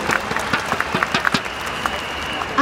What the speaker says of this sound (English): So let's give a big round of applause to Elias Muhozi.